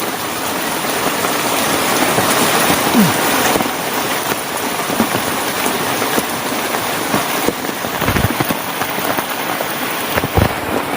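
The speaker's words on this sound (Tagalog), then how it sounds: "Yun, balik ulit yung ulan oh." Steady heavy rain pours down in a dense constant hiss, with a few louder thumps and low rumbles passing through.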